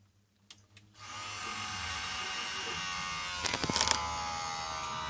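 Desktop PC powering on: a couple of faint clicks, then the fans spin up into a steady loud whir with a harsh, buzzy whine, broken near the end by a few sharp clicking bursts.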